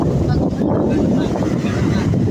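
Strong waves wash continuously at Talim Beach on Talim Island, Lian, Batangas, a steady broadband roar of surf mixed with gusting wind buffeting the microphone, loud and unbroken throughout.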